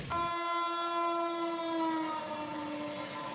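A train horn at a station sounds one long, steady, loud blast that slowly fades, with a rumbling rail backdrop and no talking.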